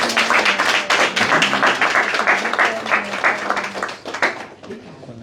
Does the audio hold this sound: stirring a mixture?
no